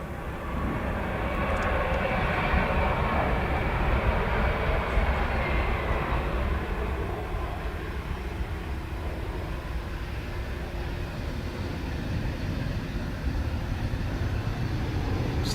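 ATR turboprop arriving at Dublin Airport from Exeter, a continuous moderate engine drone holding steady throughout at a middle distance, with no voices.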